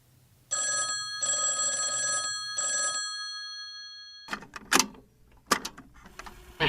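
An old telephone bell rings loudly in three long bursts with short gaps, then falls silent before clattering handling noises and clicks follow.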